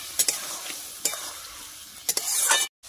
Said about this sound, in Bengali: মাছের উপরে টমেটোগুলো দিয়ে দেব। দিয়ে ভালোভাবে নাড়িয়ে নেব।